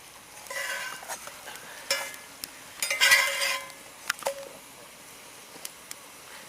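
Onion flatbread frying in a little oil in a pan: a soft steady sizzle with scattered clicks and light scraping taps, fairly quiet.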